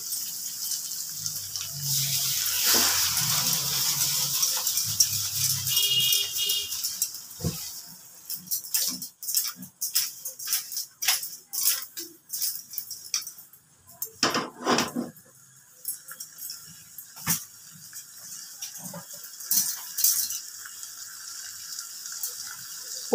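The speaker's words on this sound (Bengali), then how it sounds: "মাছের এক পিঠ হয়ে গেছে, এবার আমি এটাকে ওপর নিচ করে দিচ্ছি" Chapila fish get tossed and flipped in a frying pan over a sizzling hiss, followed by a run of quick metallic clinks and scrapes from the pan.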